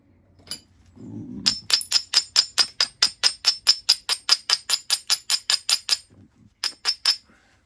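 Repeated sharp metallic clinks from hammering by direct percussion with a half-inch bar while shaping an axe: about twenty evenly spaced strikes in a steady fast rhythm, then a short pause and three more blows, close and loud.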